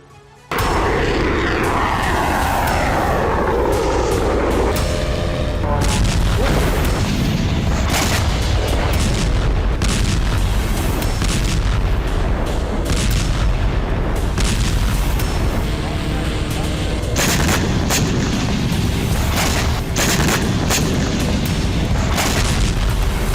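Russian missile strikes on Ukrainian cities including Kharkiv and Kherson, a dense barrage of loud booms and blasts layered over a continuous roar, with a news narrator speaking over it.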